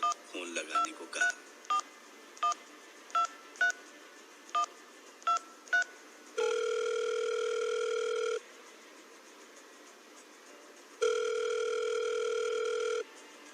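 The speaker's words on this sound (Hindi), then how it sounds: "अपने लैंडलाइन फोन का रिसीवर उठाकर अपने ऑपरेटर से शहजाद के दिए हुए नंबर पर फोन लगाने को कहा।" A landline telephone being dialed: a series of short touch-tone beeps in a steady rhythm, then a long steady ringback tone, a pause, and a second ring tone.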